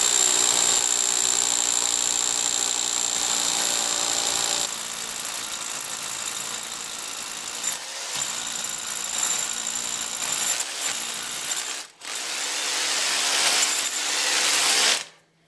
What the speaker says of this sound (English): this is an old Makita drill I have, battery drill, 18 volts